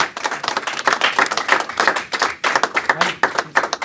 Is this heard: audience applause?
yes